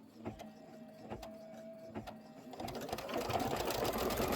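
Embroidery machine stitching out a boot buckle design gives a quiet, steady mechanical hum with soft rhythmic clicks, rising into a busier, louder whir of rapid stitching toward the end.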